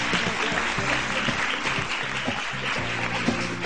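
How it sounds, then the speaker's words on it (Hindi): A studio audience on a Pakistani morning talk show claps steadily and loudly to welcome a guest, a dense continuous wash of applause with no speech over it. "तालियां रुकनी नहीं चाहिए।"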